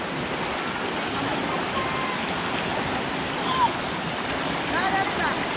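Clear river water runs steadily over its bed, a continuous close broadband rush with a few faint higher chirps near the end.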